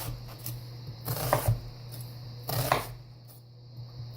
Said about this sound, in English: If you've never cut an onion, you're in for a treat.